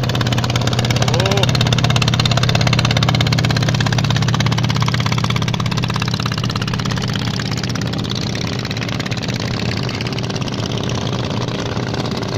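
A steady, loud tractor engine runs throughout with a continuous low rumble and vibration, close by and unchanging, in a rice paddy.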